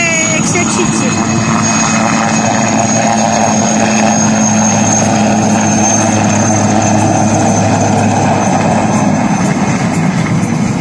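A Red Bull Flying Bulls helicopter flies at the BIAS airshow at Aurel Vlaicu Airport in Băneasa, a loud, steady rotor and engine drone that fills the whole stretch without a break.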